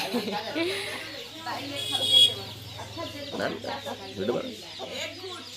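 Domestic hens and small chicks clucking and peeping nearby in a home yard, with several overlapping calls in an irregular pattern beneath continuous talking from a person close by.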